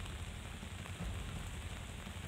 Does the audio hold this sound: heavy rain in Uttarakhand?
yes